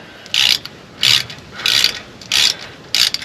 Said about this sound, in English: to get started, I got to take the bolt out that goes into the caliper bracket